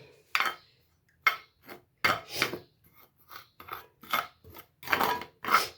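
Masala is stirred together with wheat flour in a bowl, heard as quiet, scattered scrapes and soft clinks of a utensil against the bowl, coming in short separate bursts with silence between.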